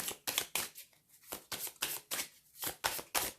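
Belline oracle cards being shuffled by hand in a rapid, rhythmic series of papery riffles and slaps, close and fairly quiet, with no talking.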